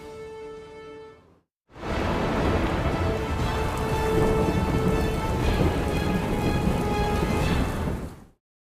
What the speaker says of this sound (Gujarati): 100થી વધુ તાલુકાઓ છે જ્યાં વરસાદ પડી રહ્યો છે